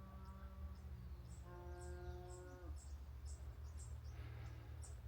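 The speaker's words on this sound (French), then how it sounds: "on entend les vaches gueuler là." Cows bellow faintly in the distance on a farm, with a few drawn-out low calls over steady background hum and insect-like chirps.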